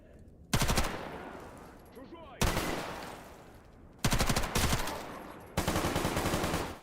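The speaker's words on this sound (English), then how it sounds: "Why are you shooting me?" Enemy gunfire in STALKER: GAMMA comes in four loud, close automatic bursts of rapid shots, separated by short quieter gaps.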